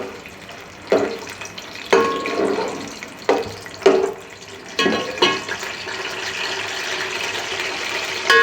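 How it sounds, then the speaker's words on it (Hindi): Chopped onions dropped into hot oil for a beef yakhni pulao, with several separate splashy bursts of spitting and crackling about a second apart, then a steady close hiss. "ऑयल तकरीबन गर्म हो गया, इसमें हम प्याज इस तरह से काट के हमने रखी हुई थी प्याज डाल देते हैं"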